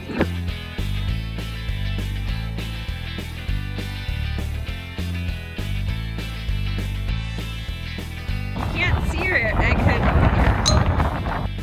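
Cold wind at a lagoon 12,500 feet up in Nevado Tres Cruces, Chile, rushes and buffets the microphone in loud gusts, rising over the last few seconds after a stretch of music.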